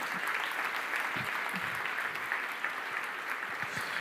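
Inside a Spanish-language church service, the congregation breaks into sustained applause, many hands clapping in an even, crowded roar that fills the room without pause and with no one speaking.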